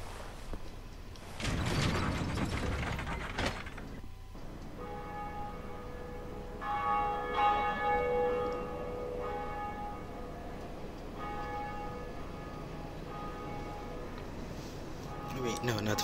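A bell in the Dark Souls video game rings out in repeated, ringing tolls that linger and overlap, with a creaking mechanism and game ambience beneath.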